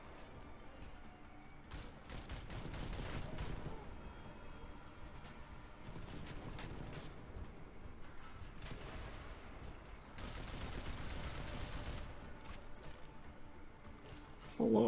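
Automatic gunfire rattles in bursts during a firefight in Deus Ex: Mankind Divided, with repeated sustained volleys of rapid shots at moderate level against a busy game soundscape.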